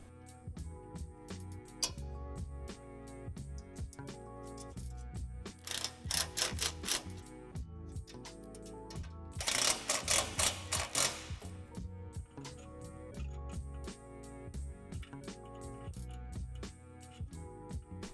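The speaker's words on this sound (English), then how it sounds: "twist the screw until it's all the way through the hole" Bolts and screws being fastened while assembling a powder-coated Lifetime outdoor glider bench, heard as close ratcheting and clicking mechanical bursts, louder twice in the middle, with quieter tool ticks in between.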